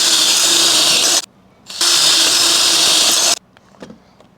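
Power drill boring a 6.5 mm hole for M6 bolts, two loud steady whirring runs of about a second and a half each separated by a brief pause, then quiet handling clicks.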